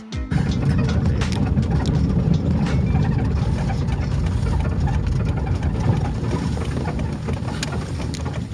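A car engine runs steadily on the drive to Uwharrie National Forest in North Carolina, a loud continuous low rumble with road noise throughout and no talking.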